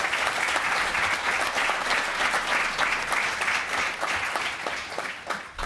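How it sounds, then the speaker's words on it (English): An audience at a panel talk on comics and graphic novels applauds steadily, many hands clapping in a dense, sustained burst that tapers slightly toward the end. "let's give them all a round of applause"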